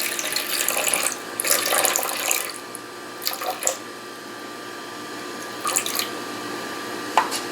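Water trickles and drips from a faucet into a container as 190 grams are weighed out for sourdough biga pizza dough, a few short splashy bursts close by in a quiet kitchen.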